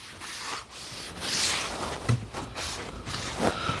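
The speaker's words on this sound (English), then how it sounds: "We're gonna wet sand the other one." Fine-grit sandpaper rubs over wood on a drawer cabinet build, a close, continuous scratchy rasp in uneven back-and-forth strokes with no talking.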